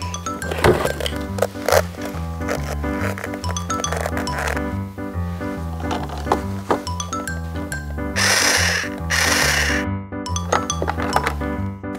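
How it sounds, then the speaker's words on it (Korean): A drill, hammer and other hand and power tools are played as a rhythm, with repeated metallic clinks and knocks over a steady pulsing pattern and two short bursts of drill whirring near the end. "드릴이랑 망치, 그리고 여기 있는 공구들로 제가 리듬을 만들어 볼게요"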